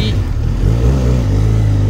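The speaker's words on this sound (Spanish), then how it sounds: "vamos a sacarle la velocidad máxima a esta moto" A Benelli TRK 502 motorcycle engine revs loud and close, its steady rumbling drone rising slightly in pitch during a top-speed run, with a voice briefly audible at the start.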